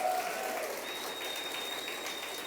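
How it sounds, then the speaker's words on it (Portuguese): An audience applauds in a steady ripple of clapping for two adolescent youth leaders standing up in a church gathering. The clapping is moderate and sustained, with a faint whistle-like tone above it. "Dê uma salva de palmas para eles."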